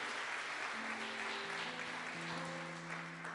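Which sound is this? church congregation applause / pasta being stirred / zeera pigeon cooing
church congregation applause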